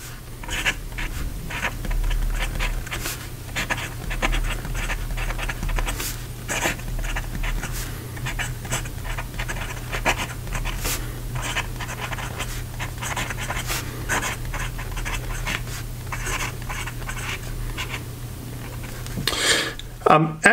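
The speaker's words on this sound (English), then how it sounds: "As you might have noticed during the writing sample, this is a rather noisy nib" A noisy fountain pen nib inked with Nettuno 1911 Black Sands scratches across paper in continuous writing strokes, with quick rasping bursts over a low steady hum, close and fairly quiet, without speech.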